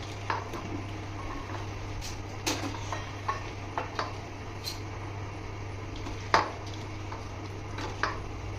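Spices with Kashmiri red chili being mixed for mutton champaran, heard as faint scattered clinks and scrapes of utensil against a pot over a steady low background hum, with no talking.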